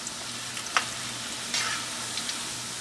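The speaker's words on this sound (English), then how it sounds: "Fry them for 5 to 7 minutes." Sliced Kerala bananas fry in hot oil with a constant, close hiss and crackle, broken by a couple of short stirring scrapes; no voices.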